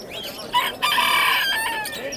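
A rooster crows loudly and close at the Cordeiro poultry fair, one sustained strident call of about a second with a short rising start, standing alone without talk.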